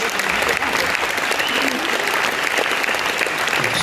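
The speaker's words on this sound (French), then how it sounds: "on peut aussi applaudir pour ça" Dense, steady applause from a concert audience at Le Trianon in Paris during a show, many hands clapping continuously and evenly without a break.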